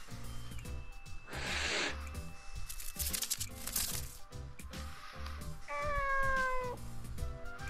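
Cat meowing in the video game Nights of Azure, a clear drawn-out meow near the end over the game's layered music and effects, fairly quiet overall.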